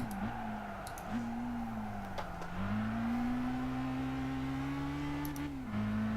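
A car engine in Gran Turismo 5 holds a steady high-revving drone near the rev limiter, its pitch dipping and climbing with brief gear-change breaks, loud and continuous.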